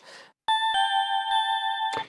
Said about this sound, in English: We've got this vintage bell sounds, which I really love.